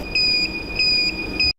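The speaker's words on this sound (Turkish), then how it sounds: "Bakın duyuyor musunuz alarm sesini?" A social distancing proximity alarm beeps loudly in repeated high-pitched tones, three bursts in quick succession over steady background noise before cutting off abruptly.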